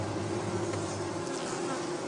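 A swarm of overheated honeybees fanning their wings to cool the hive, a dense continuous buzzing drone that holds steady throughout, close and moderately loud.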